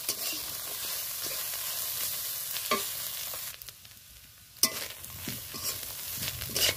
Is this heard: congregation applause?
no